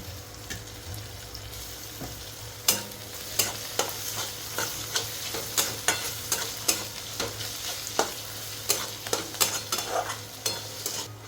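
Chopped tomato fries with onions in a pan for spicy boiled-egg bhurji, a low steady sizzle punctuated by regular sharp scrapes and clacks of a spoon stirring against the pan.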